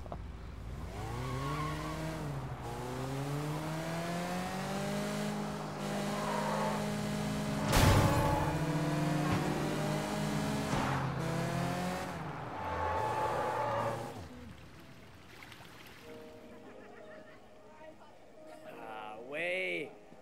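A car engine drives in the open-world game Sleeping Dogs, revving with rising and falling pitch and a sharp tire squeal midway, loud and near, while someone talks over it.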